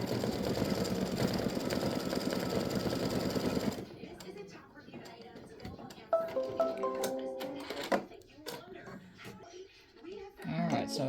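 A home embroidery machine stitches a Halloween witch and spider design, its needle running in a steady, rapid mechanical chatter for the first few seconds before dropping away to quieter, scattered handling sounds.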